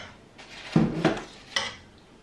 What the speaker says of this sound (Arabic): الزبده معلقه كبيره نعمرها مزيان بحال هكا على القياس هذا ونبقى نحرك فاش تدوب